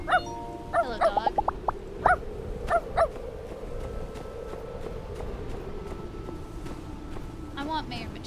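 A dog in the video game My Time at Sandrock gives a run of short yips and barks, clustered early then sparse, over game music, with a person talking.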